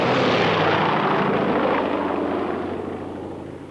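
A 40-year-old DC-6 propeller airliner sweeps low overhead, about 50 metres up, its loud piston-engine drone roaring steadily before slowly fading as it passes away, with no voices.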